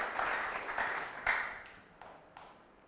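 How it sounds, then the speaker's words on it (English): A moderately sized audience gives a round of applause in a hall, a soft rolling patter of claps with a few sharper individual hits that trails away toward the end. "So let's give him a big round of applause."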